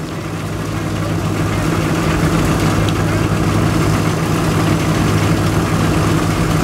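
An antique Case threshing machine runs at an agricultural power show, a steady low engine-like drone and mechanical rumble as it separates grain from straw, continuous and fairly loud with no talk.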